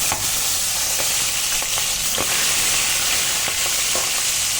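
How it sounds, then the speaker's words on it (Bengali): Tangra fish frying one by one in hot mustard oil in a wok, giving a steady, dense sizzle with occasional sharper pops and spatters, close and alone without talk. "এবার এক এক করে ট্যাংরা মাছগুলোকে আমি ভেজে নিচ্ছি"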